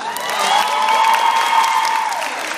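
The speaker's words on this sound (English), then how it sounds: "How about another round of applause?" Audience applause at a university cap and gown ceremony, a steady, dense wash of clapping that holds at full strength for nearly three seconds, with some sustained tonal sound running beneath it.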